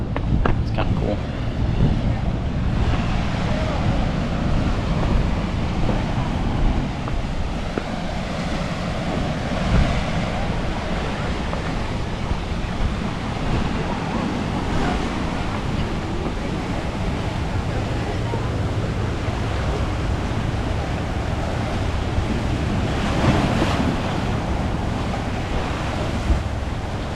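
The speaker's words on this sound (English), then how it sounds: "It's cool seeing the waves crash up against the rocks." Ocean waves crashing against rocks under a cold breeze, a loud continuous roar of surf and wind buffeting the microphone throughout, with a person talking over it.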